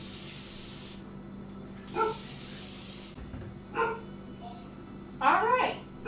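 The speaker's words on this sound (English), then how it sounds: "So we are going to mist her hair once again." A spray bottle mists a grandmother's hair in two short, breathy hissing bursts nearby, followed by a voice talking and other light handling noises.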